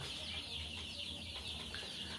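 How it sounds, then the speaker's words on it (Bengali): Tiger chicken chicks crowd together on a poultry farm, their high cheeping and clucking blending into a steady, dense chorus that holds level from start to end. "টাইগার মুরগির বাচ্চা আছে, তিথি মুরগির বাচ্চা আছে"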